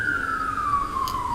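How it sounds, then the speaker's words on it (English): An emergency siren wails outside, a single falling tone sweeping downward, clear and moderately loud over a quiet background. "Oh, there's sirens."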